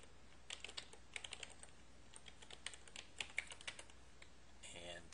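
Someone types on a computer keyboard while entering email settings for report delivery. Quick, light clicks come in irregular bursts with short pauses, close but quiet over faint room hum.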